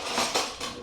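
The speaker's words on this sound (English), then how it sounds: "All right, cut my jalaps up." A knife slicing through fresh jalapeños on a cutting board, giving a brief, close run of crisp cuts and taps of the blade against the board.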